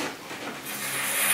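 A metal spoon held still on ice gives off a dry, rasping squeak that grows brighter and louder over about a second.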